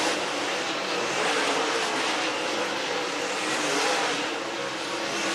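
Dirt late-model race cars running hot laps at Talladega Short Track, a sustained, fairly loud engine roar that swells and fades slightly as cars pass, with no voices over it.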